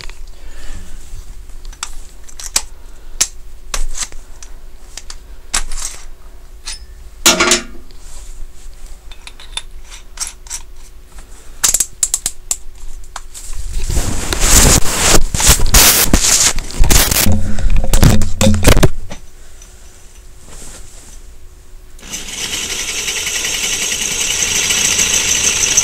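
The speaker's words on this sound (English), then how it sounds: "So back to drilling I go." Light scattered clicks and knocks come first. A hammer drill with a masonry bit then grinds into a concrete foundation in a loud, harsh burst of about five seconds, and another drilling stretch starts near the end.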